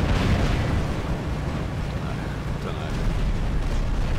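Rockets blast an enemy robot in the War Robots game with dense, low, rumbling booms that run through the whole stretch. Someone talks over them.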